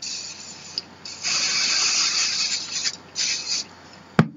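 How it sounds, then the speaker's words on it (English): An aerosol can of repositionable spray adhesive hisses in several bursts, a long steady spray followed by shorter sputtering squirts from a nearly empty can, close up, ending with a sharp tap. "I'll give it a little squirt of repositionable spray"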